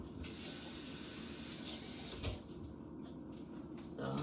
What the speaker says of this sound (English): So I'm going to add a little water, thin it down some.